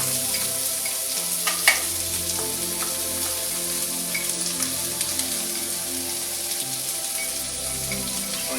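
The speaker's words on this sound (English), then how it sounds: "I've got myself like half a cup of red onion I'm gonna throw in here." Red onion sautés in bacon fat in a pan, giving a steady, even crackling sizzle with a few sharper pops scattered through it.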